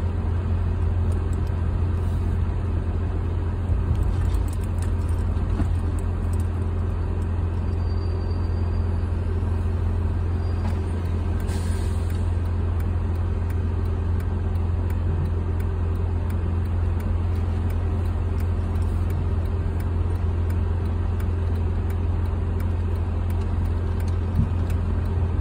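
A car pulls out of an airport waiting lot toward Terminal 1 pickup at San Diego International Airport, its engine and road rumble a steady low drone heard from inside the cabin.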